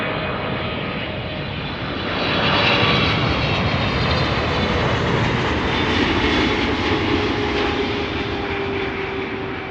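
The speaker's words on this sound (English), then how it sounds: "KLM Flight 744 arriving from Lima in Peru." A KLM airliner arriving at Amsterdam Schiphol Airport on a cool, slightly breezy summer day, its jet engines a steady broad roar that swells slightly mid-clip and holds at a moderate distance, with no talk.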